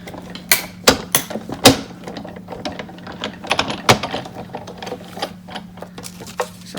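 A die-cutting machine feeds an oval die through for a shaker card, giving a string of close, sharp mechanical clicks and ratcheting clacks in an uneven rhythm over a faint steady hum.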